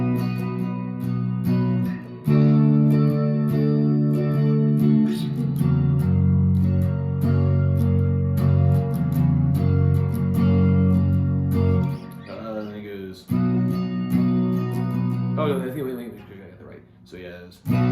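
Distorted electric guitar strums a grunge pre-chorus chord progression of barre chords, thick sustained chords changing every couple of seconds with a brief break near the end, loud and close with no talk.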